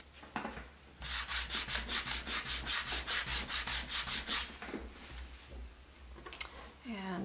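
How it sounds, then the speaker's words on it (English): Sandpaper rubs in quick, even back-and-forth strokes across painted wood, a dozen or so close raspy passes in a row, then a few slower scrapes, with faint talk in the background. "So we'll go sandpaper."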